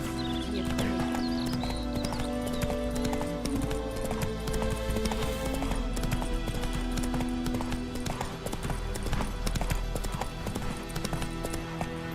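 Geralt's horse Roach trots in The Witcher 3: Wild Hunt, a continuous rhythmic clip-clop of hooves with an occasional neigh, heard over game music and ambience.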